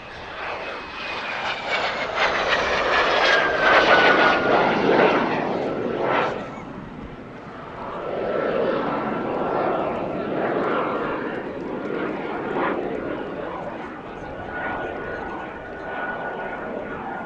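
Vintage jet aircraft at the Paris-Villaroche airshow: a loud, sustained engine roar with a rising and falling whine as it passes. A narrator speaks over it throughout.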